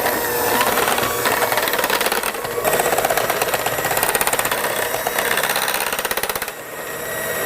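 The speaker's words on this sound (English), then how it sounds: "Now we'll use our mixer to mix this all together." An electric hand mixer whirs loudly and continuously close by, beating apple cake frosting ingredients, with a rapid rattling pulse and a brief dip near the end.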